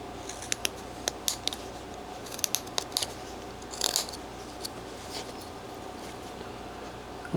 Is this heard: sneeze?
no